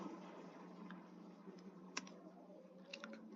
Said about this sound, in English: So here also in command prompt, just type pip